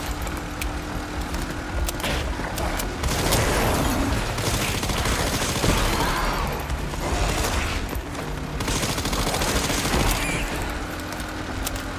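Rapid automatic gunfire from an unlimited-ammo weapon in Resident Evil 9, dense sustained bursts of shots with brief pauses, loud and close, layered over rumbling game noise.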